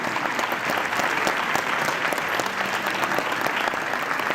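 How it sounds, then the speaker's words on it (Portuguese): Congregation at a Protestant church service claps for the choir, a dense, continuous burst of applause with sharp individual claps standing out, sustained evenly throughout. "uma salva de palmas para esse coral maravilhoso"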